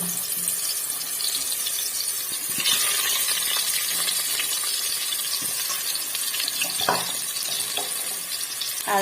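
Potato pieces fry in hot oil for an Odia-style mutton and potato curry, making a steady, close sizzle broken by occasional clinks and scrapes of stirring, with no one speaking.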